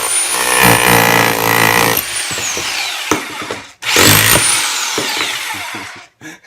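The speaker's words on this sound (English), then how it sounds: "Let's tear apart this brick and have a little bit of fun with it." A Topshak portable rotary hammer drill with a chisel bit breaks apart a brick. Two loud, close bursts of rapid hammering, each winding down with a falling whine, are broken by a short pause and debris clatter.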